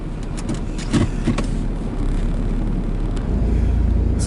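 Pontiac Firebird pulling away, a steady low engine rumble with wind buffeting the microphone, no talking.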